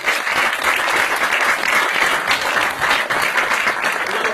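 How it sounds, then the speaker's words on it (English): An audience claps steadily and loudly for a committee member called up at a mentalism parlour show, dense applause filling the space with no break. "A round of applause for this gentleman."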